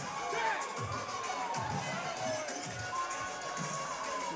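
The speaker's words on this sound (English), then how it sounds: "Crowd making some noise for Dex coming out looking like a Hawaiian warrior." Crowd noise at a combat sports event as a fighter makes his entrance, a busy, moderately distant swell of cheering and shouting with dull thumps recurring roughly once a second underneath.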